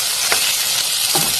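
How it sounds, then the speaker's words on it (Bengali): Eggplant frying in oil over low heat, giving a steady, loud sizzle with two short bursts of stirring or flipping. "এখন আমি বেগুনটা বাজিয়ে নেব।"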